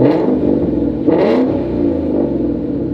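A 21-year-old Ford Mustang with its engine revving, a steady loud rumbling idle rising into one brief rev about a second in, then settling back, close by with no talk.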